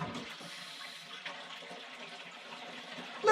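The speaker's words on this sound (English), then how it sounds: "Let's flush the toilet." A toilet flushes with a continuous rushing, gurgling wash of water that holds steady and close for a few seconds, ending in a louder surge.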